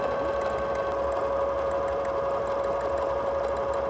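A sewing machine stitches a quilted fabric postcard with a steady, even whir and a constant mechanical hum, running alone at a moderate, fairly quiet level.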